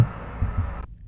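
A single deep heartbeat thump from a horror narration sound effect, close and throbbing, then a sudden cutoff into silence.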